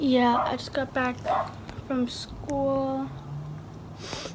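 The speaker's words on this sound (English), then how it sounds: "My window's open and the next door neighbor's dog is barking." A neighbour's dog barks through an open window in a short burst of sharp yaps followed by a drawn-out whine, heard over someone talking nearby.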